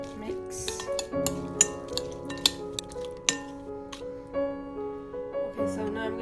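A spoon stirs green chilies and onions into chicken tikka pilau in a microwave dish, giving light, irregular clinks against the bowl over a steady tonal background.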